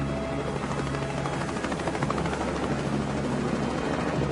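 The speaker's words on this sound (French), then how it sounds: "Les premiers hélicoptères de secours sont sur les lieux quelques minutes plus tard." Rescue helicopters hover over an ocean crash site where an airliner went down, a continuous loud rotor thrum and turbine whine holding steady with no voices.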